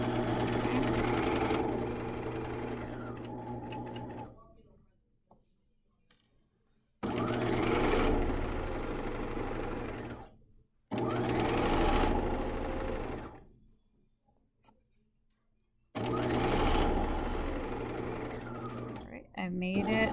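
A sewing machine stitches along the seam of a bag in three long, steady runs of close, whirring mechanical hum, each broken off by short quiet pauses.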